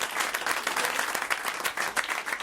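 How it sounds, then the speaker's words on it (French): A studio audience claps loudly and continuously, a dense rattle of many hands with slight surges, filling the whole stretch. "on vous applaudit"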